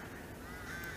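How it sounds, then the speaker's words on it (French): Crows caw faintly in the distance outdoors, a soft, brief call under a steady background hiss. "Je sais pas si vous entendez les corbeaux là, mais ça croisse."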